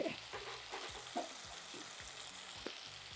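Spices with turmeric and chilli frying alongside brinjal in a pan for vankaya pulusu, a soft steady sizzle with quiet stirring scrapes at a regular pace, close but low, no voices.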